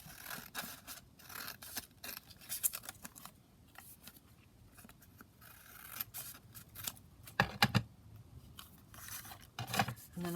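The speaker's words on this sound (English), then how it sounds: "I'm just going to trim around this a bit because obviously this book page is miles too big for this little pocket" Scissors trim a paper book page close by, giving repeated crisp snipping and rustling cuts in uneven bursts. A few louder snips come near the end, with no talking.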